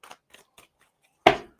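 A tarot card deck is shuffled, giving a few soft, scattered paper ticks and then a short, brighter riffle burst near the end. The sound is close and clear, with no voices.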